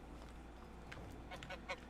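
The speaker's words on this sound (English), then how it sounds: "Feeding the geese." Geese honking in the medieval video game Medieval Dynasty, a few faint, brief nasal honks clustered near the end over a low ambient hum.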